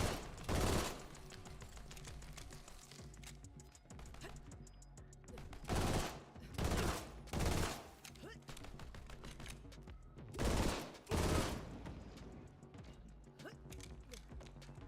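Bursts of rapid gunfire from a weapon in the Borderlands shooter game come in several loud volleys separated by quieter gaps.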